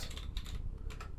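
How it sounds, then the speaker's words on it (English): Quick typing on a computer keyboard, a steady patter of soft key clicks in a few short runs with brief pauses, close by and fairly quiet. "I'll just jump back over to the portal and I'll just type in AZ"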